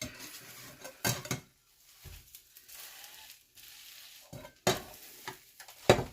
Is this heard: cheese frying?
yes